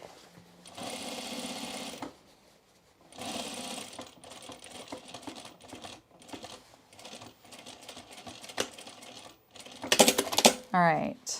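A sewing machine stitches thick overall seams in several bursts of steady whirring, separated by short pauses and handling noises, with a louder clatter near the end.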